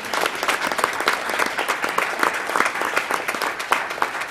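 A round of applause at a school board meeting, with individual claps distinctly audible in a lively, moderately sized crowd, keeping an uneven, crackling rhythm throughout.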